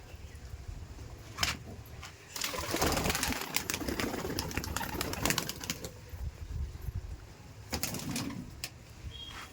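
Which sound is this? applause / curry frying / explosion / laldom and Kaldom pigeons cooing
laldom and Kaldom pigeons cooing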